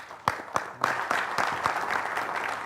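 Audience applause welcoming a poet onto the stage at an Urdu poetry gathering, starting with a few scattered claps that swell into steady, full clapping from a nearby crowd.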